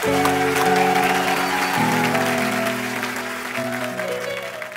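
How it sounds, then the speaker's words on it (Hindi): Studio audience on a comedy talk show claps enthusiastically over sustained background music, the applause strong at first and gradually easing off while the music carries on. "तो एक बार जोरदार तालियां हो जाएं हमारे मेहमानों के लिए"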